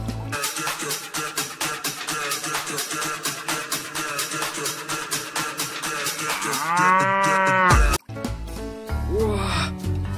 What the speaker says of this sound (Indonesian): Wow, di sini ada sapi teman-teman.